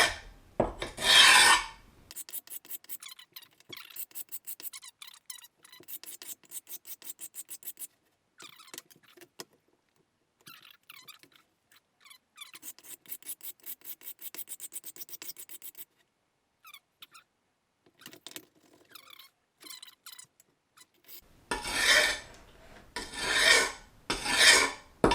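A blade rasped back and forth on a Sharp Pebble diamond sharpening plate, held in midair at 90 degrees: bursts of gritty scraping strokes with pauses between, louder sustained grinding at the start and end.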